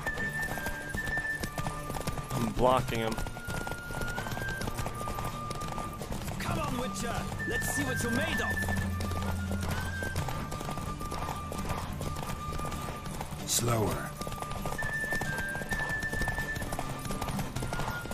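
Hooves pound in a steady galloping clip-clop during a horse race in The Witcher 3, with an occasional whinny, all under continual excited speech from the riders.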